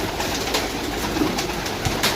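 Pigeons in a loft in Jhelum, Pakistan, with soft cooing and bird calls sounding steadily at close range, no speech.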